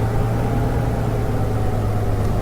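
A Spitfire engine in the DCS World flight simulator idles at 1200 RPM with a steady low, throbbing drone, heard alone and unchanging over a couple of seconds.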